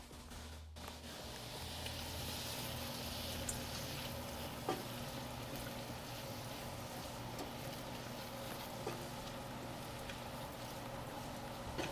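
Onions frying in a cooking pan for mushroom soup, a steady soft sizzle that runs unbroken throughout with a few faint clinks, no talking.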